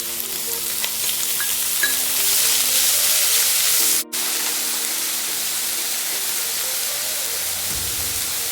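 Ground beef frying in a pan with garlic and onion for a chili sauce gives a loud, steady, broadband sizzle that barely breaks, with a brief dropout midway and a low thump near the end.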